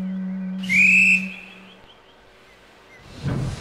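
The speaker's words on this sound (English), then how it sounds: "the guard blew his whistle, and the big blue Pacific pulled away from the station" A sharp, shrill whistle blast rings out for about a second, followed by a low hum and a brief rush of noise.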